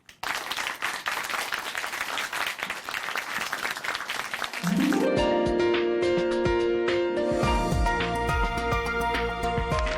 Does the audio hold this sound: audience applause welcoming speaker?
yes